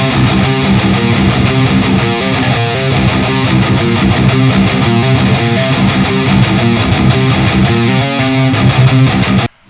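A distorted metal electric guitar recording plays back at full level, dense chugging riffs with a steady rhythm that run continuously and stop abruptly at the end, with no talk over it.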